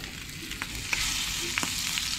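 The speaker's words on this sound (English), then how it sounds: "So we're gonna put a few trout pieces in there." Trout pieces fry in a pan, giving a steady close sizzle with a few sharp pops and crackles scattered through it, with no talking.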